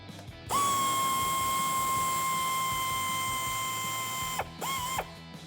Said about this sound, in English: We're gonna get that all out of the way using the air ratchet.